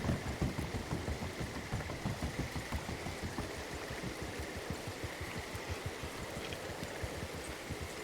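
Steady rain falls in the Red Dead roleplay game WildRP, a dense, even wash of patter and drops that holds at a constant level from start to finish, with no voices.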